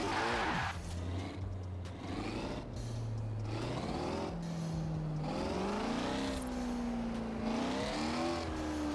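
A Koenigsegg Regera supercar engine in Forza Horizon 4 revs and climbs through its range, a steady loud drone with rising and falling pitch sweeps over several seconds and no speech.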